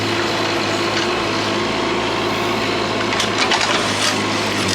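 A digger widening a hugel bed on off-grid land in Portugal runs as a steady engine drone, with scraping and crunching of earth rising near the end, loud and close.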